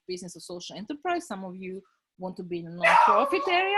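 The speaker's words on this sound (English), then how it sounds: "Excuse my dog. He hates our neighbors and they just came in." A dog barks and yips at neighbors arriving nearby, a few sharp, excited barks rising near the end while a person keeps talking over them in a home setting.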